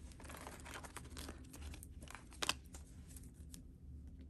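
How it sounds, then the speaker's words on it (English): Tarot cards are slid and gathered aside on a table, making soft rustling and shuffling close by, with one sharper crinkly snap near the middle. "I'm going to move all these cards out of the way"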